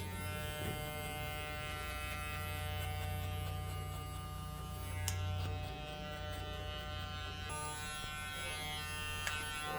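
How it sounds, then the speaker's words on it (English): An electric hair clipper runs in a barbershop with a steady, even buzz and a constant hum for the whole stretch. The motor stays close and loud. One faint click is heard partway through, and no one speaks. "So it is actually very powerful clipper"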